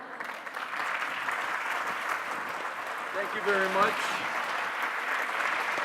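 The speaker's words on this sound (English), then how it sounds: "How about another round of applause for" Audience applause for a speaker, a sustained wash of clapping in a hall that continues while a voice briefly thanks the crowd partway through.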